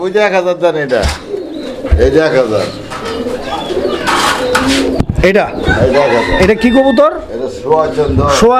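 A pair of Chandan pigeons, an egg-laying breeding pair, with the male giving repeated throaty coos up close, mixed with other bird noise while someone talks over them much of the time.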